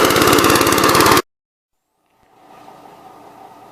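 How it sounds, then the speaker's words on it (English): A 1969 Gravely C8 tractor mows with a loud, close, rapidly pulsing engine roar that cuts off abruptly. After a silent gap, fainter machine noise rises again. "We're going to mow with it for a minute."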